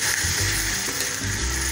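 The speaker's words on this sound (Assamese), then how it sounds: "কেৰাহীত তেল দি পিঁয়াজ ভাজি লৈছোঁ তাৰপিছত নহৰু আদাও দি লৈছোঁ" Onion, garlic and ginger frying in oil in a karahi, a loud steady sizzle with faint scraping stirs, close up and with no talking.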